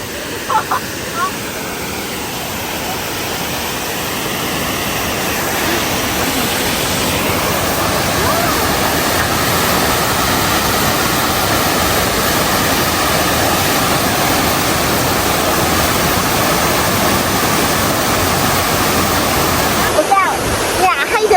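A tall waterfall in the countryside around Kengtung, heard as a loud, unbroken roar of rushing water that stays steady and close throughout, with no talking.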